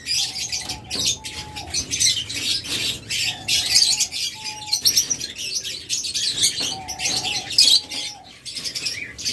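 Diamond doves in a cage setup chirp and tweet repeatedly in bright bursts, with short squawks and a little wing flapping, close and fairly loud, no talking.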